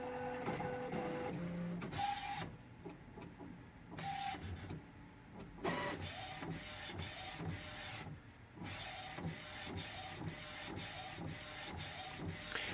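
InkEdibles CakePro950 DTF printer printing cookies, with quiet whirring carriage passes, mechanical clicks and short pauses repeating in rhythm, close and faint, without talk.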